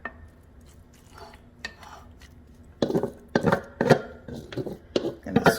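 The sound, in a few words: scraping taco hash brown mixture into a buttered baking dish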